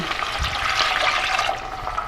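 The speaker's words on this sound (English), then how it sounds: "now we're going to add our water" Two cups of water pour into a hot pan over low heat to deglaze it, giving a steady hissing, rushing splash that lasts about two seconds with no talking.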